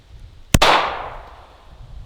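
A single sharp report from a PSA Dagger pistol during a torture test, close and loud, with a ringing tail that fades over about a second and a half.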